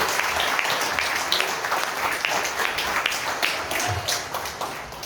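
Church congregation applauding during a Portuguese-language sermon, many hands clapping in a loose, busy patter with some sharper individual claps standing out, steady and fairly loud throughout.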